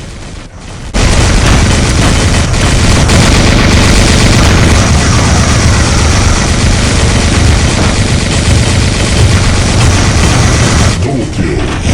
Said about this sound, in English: I'm just going to shred him to pieces because I'm running machine guns for close range